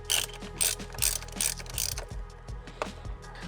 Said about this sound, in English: So we have our torque wrench